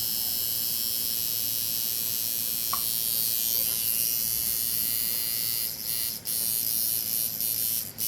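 A Wormhole tattoo machine from a budget kit, powered at 5 volts, gives off a steady, loud close-up buzz. The tone stays constant, with a few brief dips near the end.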